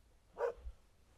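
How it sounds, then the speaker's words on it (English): A single short, faint dog bark sounds in the distance from an excited dog reacting to a car pulling up outside, followed by quiet room noise. "I've got an excited dog because somebody's just pulled up outside"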